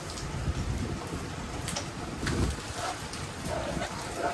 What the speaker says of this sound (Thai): โอ้ยพาไปเบิ่งบรรยากาศฝนตกเลยซะ